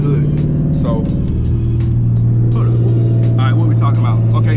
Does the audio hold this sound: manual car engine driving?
yes